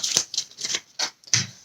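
Tarot cards being shuffled in a handful of short papery riffling bursts, close and fairly quiet, with brief pauses between them and no talking.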